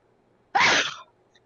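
A single sharp sneeze bursts out loud and close after a quiet moment, then trails off into stillness.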